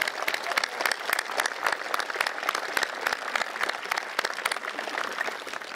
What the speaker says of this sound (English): Please give them a warm round of applause for all the work they've done